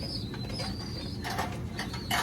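Racing pigeons newly arrived at a loft, soft cooing and rustling heard close by, with a few brighter chirps and wing sounds over a steady low background hum.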